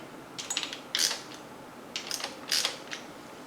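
A ratchet tightens cylinder head bolts on a 383 engine rebuild, quiet clicks in short clusters separated by pauses, close and faint, with no talk.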